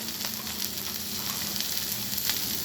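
Ground cumin and coriander spooned into hot oil sizzle loudly and evenly, a dense close frying hiss with small pops and no voices.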